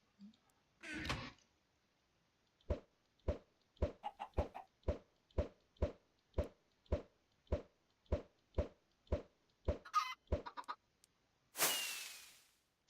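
Chickens in the Minecraft video game: a steady run of about fifteen evenly spaced short clucks, close and clear, with a few scattered game noises and a burst of hiss at the end.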